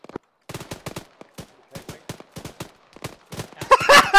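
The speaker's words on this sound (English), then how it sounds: "That was so many shots to bring him down." Gunfire in Arma 3 on Malden with Australian armed forces, a series of sharp separate shots in irregular bursts, ending in a dense loud volley.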